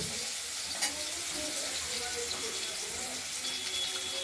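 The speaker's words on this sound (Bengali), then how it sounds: "আলুগুলো ভেজে নেব।" Potatoes frying in a pan give off a steady, even sizzle and hiss that runs without a break and stays fairly quiet throughout.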